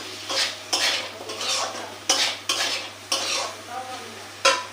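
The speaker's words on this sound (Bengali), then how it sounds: "হালকা হলুদ দিলাম, আর এদিকে আবার এমনি করে ভেজে নেব।" A spoon scrapes and stirs soybean chilli ingredients with turmeric as they fry in a pan. Loud, rhythmic stirring strokes and clanks come close up over a soft, continuous sizzle.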